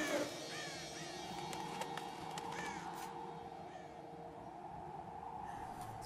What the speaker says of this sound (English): This crow scared us a little bit.